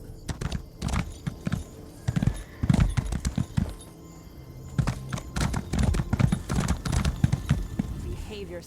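A horse in the Elder Scrolls Online game clip-clops in repeated hoof beats and whinnies, with a voice talking over it in stretches before the hooves pick up again toward the end.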